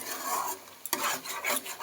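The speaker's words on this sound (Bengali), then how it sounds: "নাড়তে নাড়তে পুরো জলটাকে শুকিয়ে ফেলতে হবে।" Curry being stirred in a pan to cook off its water, with a spoon scraping and rasping against the metal in close repeated strokes over a soft background sizzle.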